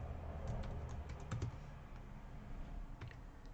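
Quick, faint typing on a computer keyboard during a programming lecture, a dense run of soft clicks and taps with a few slightly louder keystrokes and no talking.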